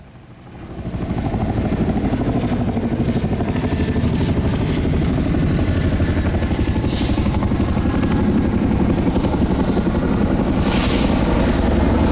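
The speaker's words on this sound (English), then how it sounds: "the sound of a Chinook helicopter can be heard" A Chinook helicopter's heavy rotor thumping swells in as it begins landing and holds as a loud, steady low chop with whining engine noise, no voices.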